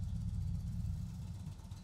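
An Indian Motorcycle 111/116 engine runs during an oil change, making a steady, low, faint rumble with no voices and no clear change in pitch.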